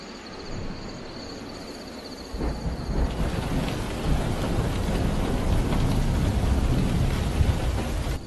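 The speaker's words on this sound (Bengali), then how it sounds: "এখন বৃষ্টি নেমে গেছে খুব জোরে।" Heavy rain pours down in a forest at night, a low rumble of thunder rolling through as the downpour swells from moderate to a loud, steady roar that fills the rest of the clip.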